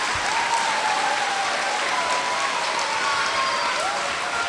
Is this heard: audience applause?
yes